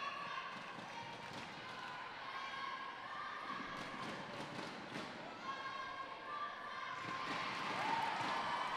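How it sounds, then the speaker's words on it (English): Home supporters cheer at a youth under-17 football match between Gibraltar and Malta, a distant, steady crowd murmur with swelling shouts and cheers, rising louder toward the end. "Probably hear the crowd here clearly behind the home side."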